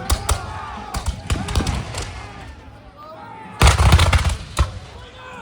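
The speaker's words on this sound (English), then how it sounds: "That's volley fire." Musket volleys crack out at a Battle of Bunker Hill reenactment, a scatter of sharp shots followed later by a louder, denser burst of fire, with some distant crowd noise in between.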